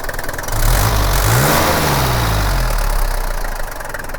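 An old diesel car engine runs steadily at idle with a rough, knocking low rumble, briefly swelling as if revved slightly, close and loud throughout with no talk.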